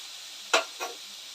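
Chopped tomatoes with salt stirred in a bowl over a gas flame: two quick, soft scraping strokes, the first louder, over a faint steady hiss.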